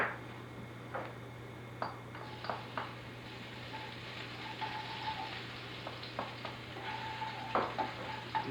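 Minced garlic and ginger frying in about a tablespoon of hot oil, a soft steady sizzle with occasional stirring clinks and taps, quiet and close with no talking.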